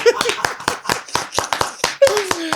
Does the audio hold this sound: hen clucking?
no